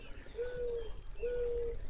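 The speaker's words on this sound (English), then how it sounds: "you will hear that owl a lot hooting" An owl hoots twice in Fishing Planet at White Moose Lake, Alberta, two even, drawn-out tones a second apart over a steady outdoor hiss.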